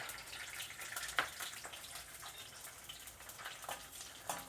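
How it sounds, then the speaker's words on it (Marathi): Pieces of edible gum (dink) fry in hot ghee over a low flame, making a soft, steady sizzle broken by scattered small crackles and pops. No one speaks. "चांगलं तूप तापलं त्याच्यात थोडे थोडे करून टाकायचे"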